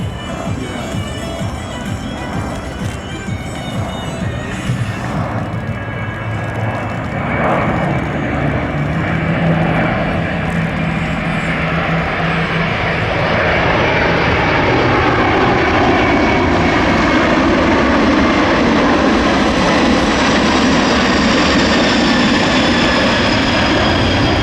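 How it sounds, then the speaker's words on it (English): A C-17 Globemaster III military transport overflying the airfield at an air show demo, a loud sustained jet engine roar that builds and broadens as it passes, with faint crowd noise beneath. "The C-17 will now overfly the airfield to prepare for landing."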